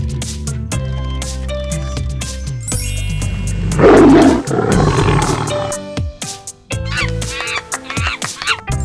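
In a cartoon animal segment, a lion lets out a loud, rough roar lasting a couple of seconds, sitting between bright musical tones and sound effects.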